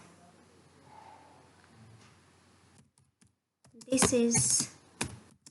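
Soft clicking of a computer keyboard being typed on while writing Python code, faint keystrokes followed by a person speaking briefly near the end.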